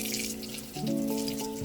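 Aquarium filter foam from a biOrb tank rinsed under a running tap, steady splashing water at close range with a shifting pitch as the foam is moved and squeezed, no talk.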